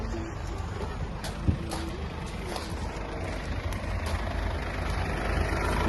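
Diesel engine of a 2020 Mercedes-Benz Sprinter van, 2.2-litre, 163 hp, running steadily with a constant rumble and a faint hiss, fairly close, one brief knock partway through, no clear talk.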